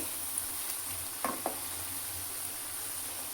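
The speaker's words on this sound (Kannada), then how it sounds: "ಇದನ್ನ ಲೋ ಫ್ಲೇಮ್ನ ಏನು ಫ್ರೈ ಮಾಡ್ತಾ ಇಲ್ಲ ನಾನು ಹೈ ಫ್ಲೇಮ್ನ ಇಟ್ಟಿದ್ದೀನಿ" Hyacinth beans (avarebele) deep frying in hot oil over a high flame, a steady close sizzle with a couple of brief scrapes or stirs and no voices.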